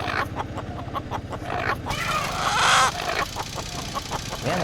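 A rooster in a Tamil film trailer clucks in quick repeated bursts, with a louder squawk midway, while other trailer sounds carry on underneath.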